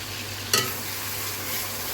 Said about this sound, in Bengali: এই মশলাটাকেও কষিয়ে নিব খুব ভালো মতন, টক দই আর টমেটো সস।